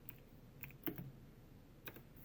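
Light typing on a computer keyboard with one hand: a few sparse, quiet key clicks spaced irregularly over low background hiss.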